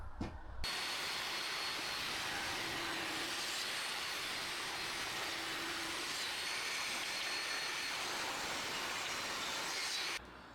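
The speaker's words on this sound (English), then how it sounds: "So I'm going to run all these boards here now through the table saw again at 4 centimeters" Table saw ripping 2x4 and 1x6 wooden boards into 4-centimetre strips, a loud continuous roaring whine as the blade cuts through the wood, steady for about ten seconds before winding down, close up with no talking.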